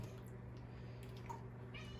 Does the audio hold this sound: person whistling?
no